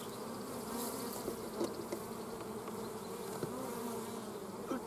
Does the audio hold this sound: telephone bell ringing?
no